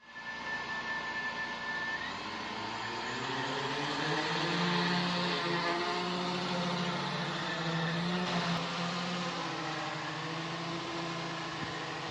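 A giant package delivery drone, built with carbon fiber tube and 3D printed joints, flies with a loud continuous rotor drone whose pitch rises and wavers as it maneuvers.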